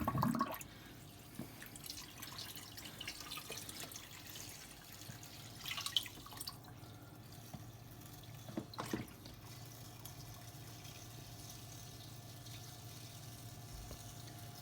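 Water pours from a larger tub into a cube aquarium being set up, a steady faint trickle and splash running throughout, with a brief louder gush early on.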